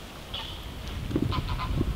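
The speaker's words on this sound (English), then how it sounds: "Geese." Geese honk out on the Norfolk Broads, heard from a canoeing spot by the water. The calls are a few short, fairly distant honks over a steady outdoor background. No one speaks.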